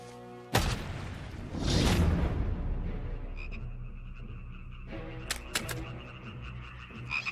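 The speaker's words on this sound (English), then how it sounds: "And frogs came up out of the river and spread over the land" Frogs croaking in a dense chorus, loud and close, with rapid overlapping calls and a few sharp thumps punctuating the steady racket.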